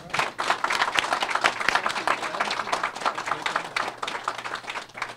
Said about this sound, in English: So if you would join me in giving a warm round of applause for our mayor, Francis Slate